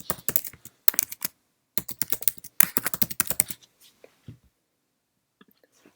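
Rapid bursts of computer keyboard typing, dense clicking clusters separated by brief pauses, close and fairly quiet, tapering into a few sparse taps.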